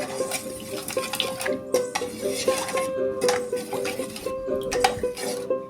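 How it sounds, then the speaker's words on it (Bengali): A spoon whisks sour yogurt into milk in a bowl, scraping and clinking in a steady, quick rhythm throughout, close and moderately loud with no voices. "এই টক দইটা দিয়ে ভালো করে কিন্তু দুধের সাথে মিশিয়ে দিতে হবে"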